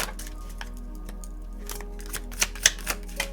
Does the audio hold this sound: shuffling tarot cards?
yes